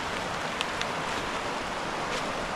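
The Mitchell River near Elkin, North Carolina flows on a winter morning, producing a steady broad rush of moving water with a few faint ticks on top.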